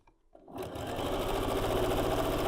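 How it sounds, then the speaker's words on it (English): A sewing machine runs steadily, stitching the seam of a bowtie quilt block; after a brief quiet start the motor hums up and drones at an even, close, fairly loud pitch with a fine rapid needle rhythm, no voices. "And sew to that center seam, straighten out the other end."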